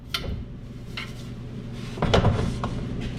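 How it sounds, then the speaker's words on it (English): An air compressor tank being flipped around during mounting, heard as close metallic clunks and knocks, with a louder rattling handling burst in the middle, and no talk. "flip the tank around,"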